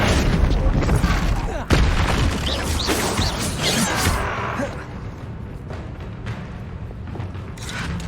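A Confringo blasting spell in the Hogwarts Legacy video game, a loud booming explosion with crashing debris and whooshes over dense battle noise, with a voice heard shouting.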